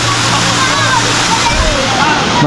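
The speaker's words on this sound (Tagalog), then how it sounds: "Lakas ng tubig ng pabagsak" Waterfall at Pagibig Falls, a loud, close, continuous roar of crashing water with sloshing and splashing, and a voice speaking faintly beneath it.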